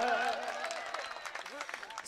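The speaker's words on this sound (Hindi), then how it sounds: "अरे अब तो तालियां बजा दीजिए।" Audience applause at a Malegaon mushaira poetry gathering, brisk clapping running underneath a poet's sung recitation.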